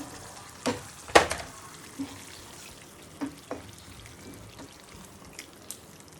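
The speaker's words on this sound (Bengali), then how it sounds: "এখন মশলাও কষাবো, সাথে মাংসটাও একটু কষাবো" Spices and boiled liver being sautéed in a pan make a soft background sizzle, broken by several sharp scrapes and knocks of stirring at irregular intervals, with no talk.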